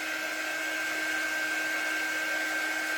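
A hair dryer blows steadily at close range to dry fresh paint on a Santa drop-in frame insert, a continuous even whir with a thin high whine running for the whole stretch and no talking.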